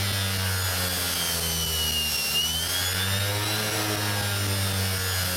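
Electric motor running under throttle on a regen controller, a steady loud whine with strong low harmonic hum and a high tone that dips and rises as the throttle is backed off and reapplied, no voices.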